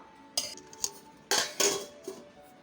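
A lid goes onto a container of fermenting batter with a few quiet clinks and clatters, separate knocks spaced over a couple of seconds, close by with no talking.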